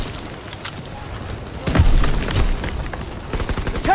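Battlefield gunfire in Call of Duty WW2 multiplayer near a German tank, with scattered shots building to a loud, dense burst of rifle and machine-gun fire and booms in the second half, with no voices.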